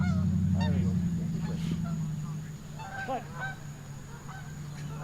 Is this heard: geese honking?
yes